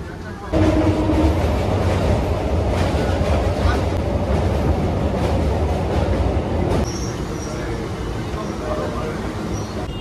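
A passenger train running toward Bandel Junction, heard from inside a crowded vendor coach: steady loud rumble and rattling wheels throughout, easing slightly near the end, with people talking over it.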